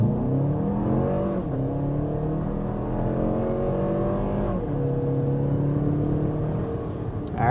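A 2023 Lexus RX 350 with a 2.4-liter turbocharged four-cylinder accelerates hard from inside the cabin, its engine note climbing steadily through rising gear pulls with brief dips at the upshifts, loud and continuous with no talking.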